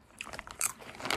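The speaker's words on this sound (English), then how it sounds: "I'll keep eating the popcorn" Close, crisp biting and crunching of popcorn, a quick run of small crackly chews over about a second with no talking.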